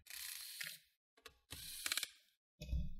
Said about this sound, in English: These screws, they have a C-lock on them, so you just have to loosen them up.